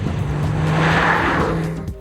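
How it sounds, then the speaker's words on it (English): Volkswagen Touareg SUV with an Audi 4.2-litre V8 engine of about 310 horsepower, driving under power: a steady, loud engine drone with a rising tone, holding for about two seconds with no talk. "With 310 horsepower on tap, the Touareg pulls very well across a broad range"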